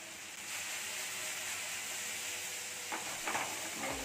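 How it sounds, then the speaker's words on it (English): Spring onion and capsicum stir-fry in hot oil for restaurant-style Kung Pao chicken, a steady close sizzle with a few sharper spatters near the end, no voices. "Time to add the spring onion and the capsicum."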